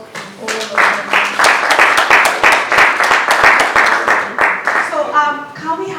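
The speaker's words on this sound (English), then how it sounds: "A round of applause for all of them." An audience at a panel event claps for the panelists in dense, sustained applause. A voice speaks over it, and the clapping continues underneath as the speech carries on.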